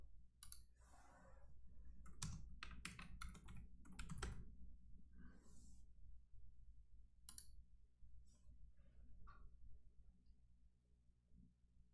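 Someone types on a computer keyboard in bursts of clicky keystrokes, quick clusters with pauses, close and fairly clear over a quiet background hum, with no one speaking.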